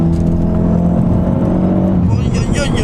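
A 360-horsepower four-wheel-drive Ford Focus RS drives with a loud engine whir that drops away as the car brakes, heard from inside while someone talks over it.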